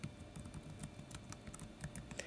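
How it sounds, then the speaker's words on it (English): Soft, rapid clicks of keys pressed on an iPad keyboard, including the tab key, in a quiet room, close and faint, with no talk. "Again, I'm hitting the tab that's on my keyboard"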